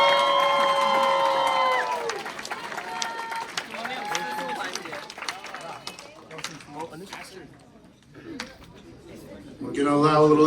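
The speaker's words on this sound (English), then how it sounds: "please give a round of applause to your dual winners" A crowd at a math league tournament awards ceremony claps and cheers for winning teams, with shrill shouts and whoops at the start giving way to scattered clapping and chatter, then a loud burst of voices at the end.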